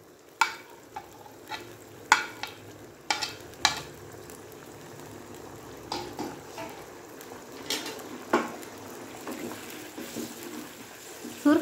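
Mutton karahi with chopped green chillies fries steadily in a pan, a continuous sizzle broken by repeated sharp scrapes and clinks of a spoon stirring against the metal, fairly close with no talk.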